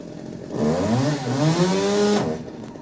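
A chainsaw engine warming up revs steadily for a couple of seconds, its pitch climbing and holding high, then cuts back abruptly.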